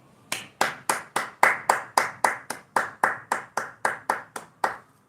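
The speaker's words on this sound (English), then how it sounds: "Rounds of applause to you." Steady rhythmic clapping of hands, about fifteen sharp claps in even succession, close and fairly loud with no voices over it.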